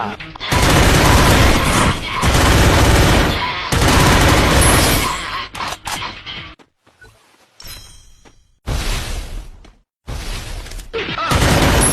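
Loud, rapid bursts of gunfire crackle through a video game shootout, several volleys separated by brief silent gaps, with voices mixed in.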